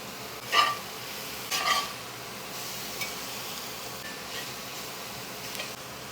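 Butter hits a hot frying pan of chicken fajita pieces with fresh herbs, setting off a steady close sizzle with a couple of sharp ticks and pops near the start.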